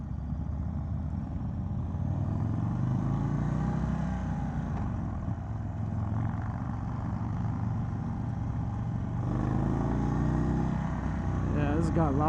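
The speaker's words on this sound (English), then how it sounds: "Really nice motorcycle." A 2022 Indian Chief with a Stage 2 Thunderstroke engine rumbles steadily underway, a continuous deep engine drone mixed with road and wind rush that swells slightly near the end.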